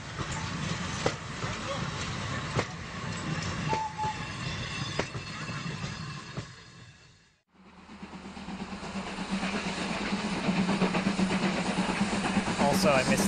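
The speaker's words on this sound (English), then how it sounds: "Train sound." A passing train in the 2D survival shooter Zero Sievert rumbles steadily with rail clatter, breaking off briefly midway before resuming louder, a continuous mechanical roar with a voice speaking over it.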